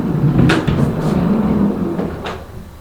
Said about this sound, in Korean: 그래서 뭘 만들었느냐 슬라이딩 도를 만들었어요